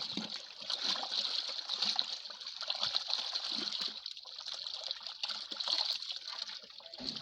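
Rainwater poured into a container to make an organic pesticide, a continuous steady splashing trickle of water, close and moderately loud, running the whole time without pauses.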